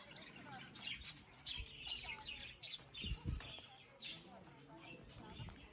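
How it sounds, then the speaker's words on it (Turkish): Scattered bird squawks and chirps at the Bilal Ağa Mosque in Kahramanmaraş come in short bursts, with some quieter background noise between calls. "Ay kuşlar varmış. Ben de diyorum bu ses nereden geliyor?"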